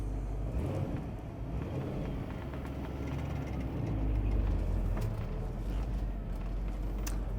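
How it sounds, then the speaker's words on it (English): A 1958 Chevy Impala convertible with a 283 V8 and three-speed rolls out of a shop, a steady low engine rumble mixed with wind buffeting, continuous and fairly close, with no talking. "So I'm just pulling out of our shop here"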